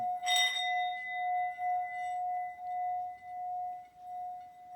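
A classroom singing chime is struck once, its bright metallic ring blooming then sustaining as a long, steady tone that slowly fades over several seconds, heard alone in a quiet room.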